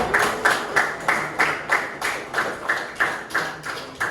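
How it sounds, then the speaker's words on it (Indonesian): Classroom of children clapping together for a classmate in a steady unison rhythm, about a dozen even claps in four seconds, fairly close and clear with little talk. "Tepuk tangan buat Adeli"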